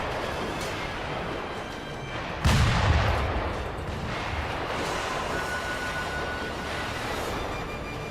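Gunfire from snipers in the video game Sekiro rings out as a single heavy boom with a booming tail, set against a steady background hum.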